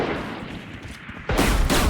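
Gunfire in the tactical shooter Valorant, a shorty shotgun among revolvers, shots striking a Sage wall: low muffled activity gives way to a sudden loud burst of close shots in the last half second.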